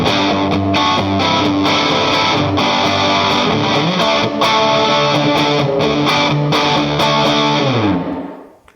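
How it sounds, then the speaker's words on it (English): Electric guitar on its humbucker pickup, played through a Matchless Coldwater Canyon amplifier with the tone turned all the way up, rings out with loud, driven sustained chords and rhythmic strums for several seconds before fading out. "And then you've got the humbucker sound here."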